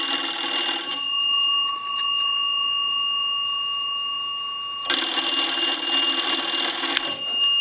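An old Western Electric 317 BB wooden wall crank telephone bell rings in two bursts, each a rapid metallic trill about a second long, separated by a steady tone and a pause.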